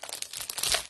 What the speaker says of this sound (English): sorry for the noise of the paper.